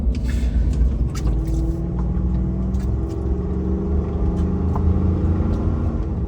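A truck engine runs steadily while driving, a low continuous rumble of motor and road noise with a faint hum throughout, no voices.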